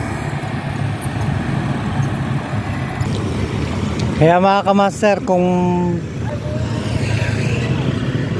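Road traffic on the Malagasang flyover in Cavite rumbles steadily as vehicles pass, with a short tonal honk partway through, while someone talks over the noise throughout.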